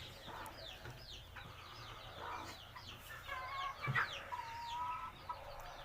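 Chickens cluck repeatedly in a farmyard, several birds overlapping at moderate distance in a steady chatter, with a louder nearby squawk toward the end.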